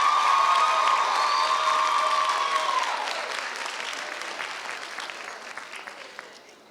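An audience at a Newark civic welcome event bursts into steady, dense applause with a few cheers, loud at first and gradually fading over several seconds.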